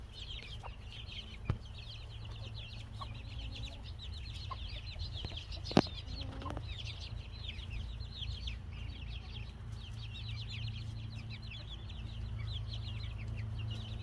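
A hen clucks softly and repeatedly, calling her ten fifteen-day-old chicks, with their faint high peeping around her and a quiet outdoor background.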